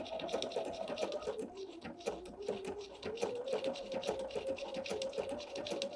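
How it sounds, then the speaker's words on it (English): A sewing machine stitches around an appliqué heart on a pillow wrap, a continuous close hum with a rapid ticking needle rhythm that holds steady throughout. "The first stitch that machine is going to take is onto the applique."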